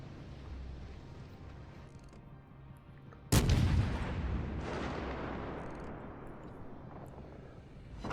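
Naval gunfire and incoming shell impacts from World of Warships: Legends, with an IJN Yubari cruiser in battle: a steady low rumble gives way to one sudden loud blast that decays into a long roar, then a second swell.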